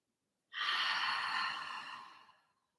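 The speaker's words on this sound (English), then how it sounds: "Take a few breaths." One deep, audible exhale during a yoga session, close to the microphone, rising quickly and slowly fading over about two seconds after a brief silence.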